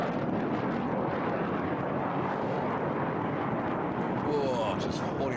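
An HAL Tejas fighter jet pulls a high-rate turn at an airshow. Its broad, continuous roar fills the air, with wind buffeting and a commentator talking over it.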